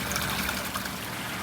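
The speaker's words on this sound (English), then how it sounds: "I used these airline tubes to siphon water out of the pond and into the basement." Water trickles steadily through thin airline tubing siphoning from a koi pond into a basement, a constant soft gurgling stream close by with no talk.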